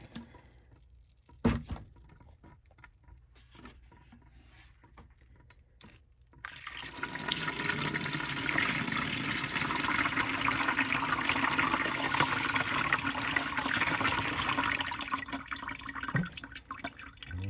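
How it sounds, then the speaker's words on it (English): Water pours over freshly tumbled peach and green aventurine stones, starting after a quiet stretch with one sharp knock and then continuing as a strong, steady splashing rush until the end. "Throw a little water on it."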